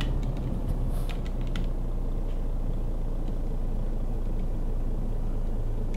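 A truck in Euro Truck Simulator 2 sets off with a steady, low engine rumble that holds throughout, and a few light clicks are heard near the start.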